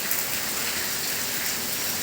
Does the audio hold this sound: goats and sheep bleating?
no